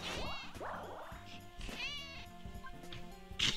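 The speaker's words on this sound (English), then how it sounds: "Meow once if it's Waluigi" A house cat meows several times close by, long wavering cries over Mario Party 4 game music playing in the background.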